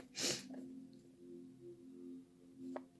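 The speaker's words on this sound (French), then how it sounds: "désolé, je renifle un petit peu" A close, sharp sniff from someone with a cold breaks a quiet room, followed later by a second, shorter sniff over a faint steady hum.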